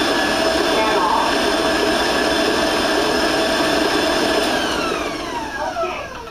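Electric stand mixer with paddle beating sugar-free New York cheesecake batter, a steady close motor whir that winds down near the end, with a voice speaking over it.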